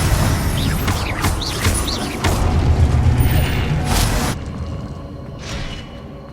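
Confringo blasting spell in the Hogwarts Legacy video game: a rapid run of loud booming impacts and whooshing magical bursts over busy combat noise, ending with a quieter shimmering swell.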